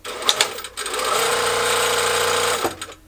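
An industrial sewing machine built for dress fabrics runs in one steady, loud, close burst of rapid mechanical stitching lasting about a second and a half, framed by brief clicks and handling noises before and after.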